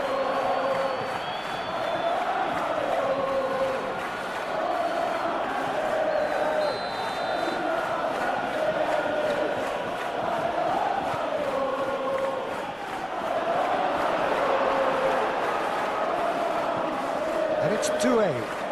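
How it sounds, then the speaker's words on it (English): Stadium crowd in a PES football match between PSG and Marseille, a continuous roaring crowd murmur swelling and dipping beneath steady commentary. "Now the crowd are demanding that they just finish this off."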